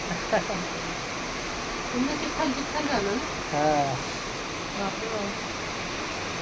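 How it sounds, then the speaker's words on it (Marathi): A continuous wash of heavy rainfall in Nashik, heard from a balcony, fills the background while people talk intermittently over it. "खूप जोरात पाऊस चालू आहे नाशिकमध्ये"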